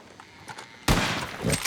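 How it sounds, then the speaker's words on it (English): Sharp gunshots from Red Dead Redemption 2 burst out loud and close after a quiet moment. The firing continues as a dense volley with a further flare of shots near the end. "Shooting."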